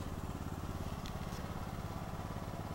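A Super C Farmall tractor fitted with a Mordek mower deck idles steadily nearby, its low engine chugging in an even, continuous rhythm with no pauses.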